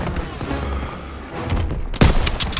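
Gunfire in Call of Duty WWII: rumbling battle noise and scattered shots build into a sharp, loud burst of close fire, followed by continuing crackling shots.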